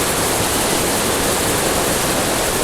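Monsoon waterfall spray near Ranchi gives a loud, dense, unbroken roar of rushing water, close and enveloping, with no voices heard.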